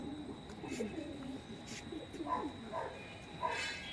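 Racing pigeons of a male section in a home loft coo softly in low, throaty bursts over a hissing background, with brief sharper sounds scattered through.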